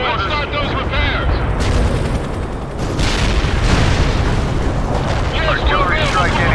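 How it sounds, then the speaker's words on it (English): An artillery strike in the World in Conflict video game, with heavy, rumbling explosion blasts rolling continuously and loudly, with several sharper impacts and radio-style voices talking over the barrage. "Artillery strike anywhere, sir. Firing at coordinates."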